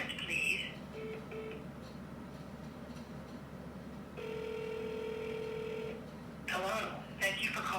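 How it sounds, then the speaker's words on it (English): A phone call to the FBI gives a ringback tone and a steady held tone, followed by bursts of electronic dialing beeps, with speech-like sounds at the start and end. "here's the phone call to the FBI."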